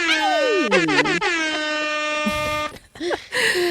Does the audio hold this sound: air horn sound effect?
yes